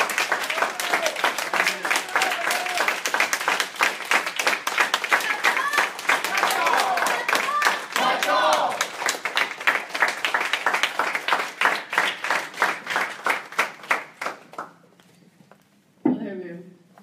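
A crowd at a Clearwater gathering claps for a speaker, a dense, lively round of applause that holds strong for about twelve seconds, then thins into scattered claps and fades before a single voice begins to speak.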